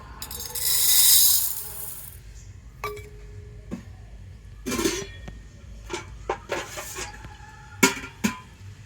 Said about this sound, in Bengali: আর এই গোবিন্দভোগ চালটা এখন আমি একটা বড় বাটির মধ্যে করে নিয়ে নেব।